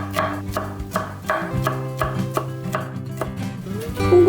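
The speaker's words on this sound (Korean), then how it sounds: "잘 펴서 2mm 두께로 채쳐주세요" A knife cuts thin 2mm julienne strips of vegetable on a cutting board with steady, regular chops, close and clear, over a low background hum, with no talking.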